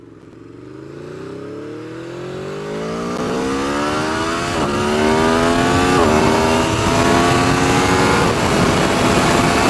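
A 2013 Aprilia Tuono V4 APRC motorcycle accelerates hard through several gears, its V4 engine climbing in pitch with brief dips at each upshift, loud and close throughout with no voices.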